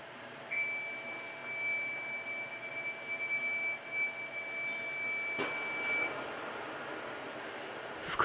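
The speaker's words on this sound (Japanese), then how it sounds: "加熱が完了した料理はブザーと画面でお知らせします" A thin, steady electronic tone sounds for several seconds over faint background hum, followed by a soft clunk: a steam convection oven's buzzer signaling that cooking is complete.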